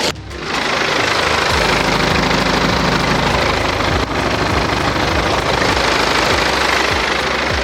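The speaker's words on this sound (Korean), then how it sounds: "이 차량 바로 엔진 사운드 들려드리도록 하겠습니다" A diesel Maserati Gran Turismo 3GT engine idles steadily and loudly with the hood open after a brief start, with a low rumbling drone and a faint rhythmic knock throughout.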